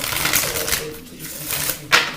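Tarot cards being shuffled by hand, a close, papery riffle and slide lasting a couple of seconds, ending in a sharper snap.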